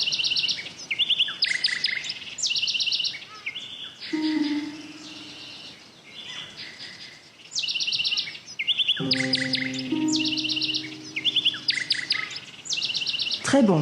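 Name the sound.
bird chirping in video game Sonar Islands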